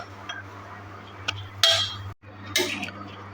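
Cooked potatoes and mutton are added to a pan, giving a few sharp clinks and scrapes of metal over a steady low hum, the loudest landing about halfway through.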